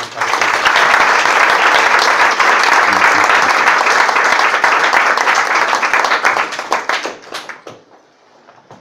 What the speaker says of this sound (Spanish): la recibimos pues con un aplauso